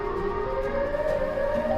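A wailing ambulance siren rising and falling steadily late at night, moderately loud and continuous, with no voices over it.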